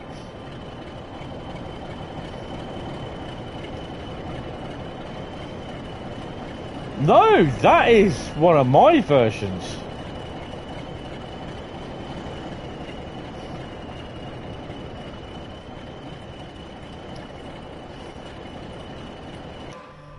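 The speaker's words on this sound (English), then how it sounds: "Parcel train." A parcel train in the Train Sim World 5 video game gives a steady, even rumble with a faint high whine throughout. Someone speaks briefly over it midway.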